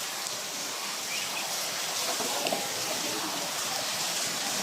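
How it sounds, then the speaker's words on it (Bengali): Heavy rain pouring down steadily, a dense, continuous hiss of close, loud rainfall with no breaks across the whole stretch. "এত বৃষ্টি পড়তেছে"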